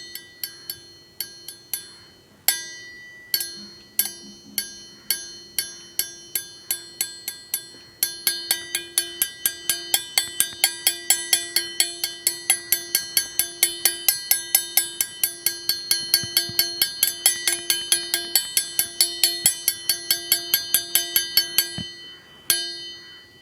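A spoon repeatedly taps a drinking glass, each strike ringing out as a clear bell-like tone; the strikes start sparse and slow, then quicken into a dense, steady rhythm, alone with no voices.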